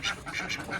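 Several village ducks quacking rapidly in a quick overlapping series of nasal calls, close and fairly loud.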